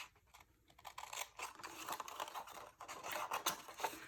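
Scissors cut through card along a score line for a slimline envelope, giving faint, close, crisp snipping and scraping crunches in an irregular run of short strokes.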